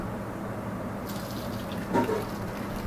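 Water pours and splashes briefly as cooked pineapple pieces are strained, a short gush of liquid over a steady low background hum.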